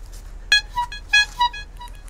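Electronic horn of an Astrolux BL03 bike light, heard outdoors as four short, bright beeping chirps spaced about a third of a second apart, at moderate volume over a low background hum.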